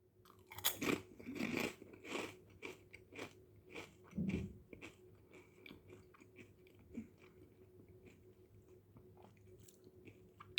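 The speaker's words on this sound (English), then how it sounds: "And this crunch is exquisite." Close, quiet bites into orange-bag Lay's gourmet potato chips: a run of crisp crunches in the first few seconds, followed by softer, steady chewing.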